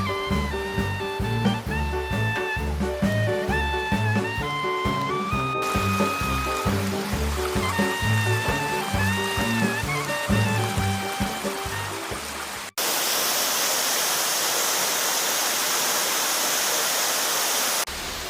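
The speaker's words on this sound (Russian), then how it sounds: "в конце вы обнаружите настоящий 22-метровый водопад" Music plays for about thirteen seconds, then cuts to the steady, hissing roar of a 22-metre waterfall in a gorge in Tbilisi in winter. The water rushes loud, even and unbroken to the end.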